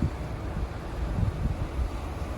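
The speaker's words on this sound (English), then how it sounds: "It's so windy," Strong gusty wind during a 2021 blizzard on a New York street near Times Square, a steady loud rumbling roar buffeting the microphone.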